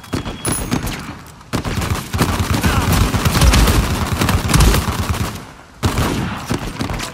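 Dense automatic gunfire from the UGG in Uncharted 4's survival mode, sustained rapid bursts packed with reports and echoes, pausing briefly near the start and again near the end.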